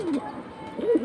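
A Military White Gold pigeon gives two short throaty coos about a second apart, close and fairly clear over a quiet background.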